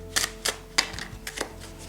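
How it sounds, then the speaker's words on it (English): A deck of Rider-Waite tarot cards being shuffled, giving soft, quick papery flicks and taps, fairly faint and close, with no talking. "I'll just give the cards a good old shuffle"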